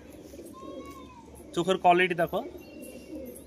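A female racing pigeon coos in a short, throaty burst of rolling notes, close by, while a person talks before and after the call.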